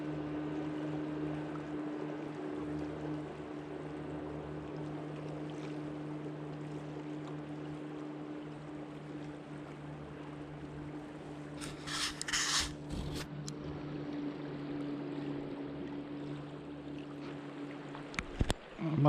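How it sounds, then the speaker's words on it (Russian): A motorboat on the Irkut river runs upstream with a steady low engine drone, faint and distant, while brief splashes and knocks of water and gear break in near the middle and end. "Пошли лодки вверх."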